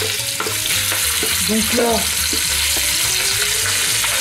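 Pieces of lamb neck and shank hit a hot pan for a spring navarin stew, giving a steady close frying sizzle with stirring scrapes, while a voice briefly speaks over it.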